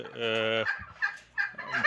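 A moulting turkey gobbles close by: a drawn-out harmonic call followed by several short, rapid gobbling bursts.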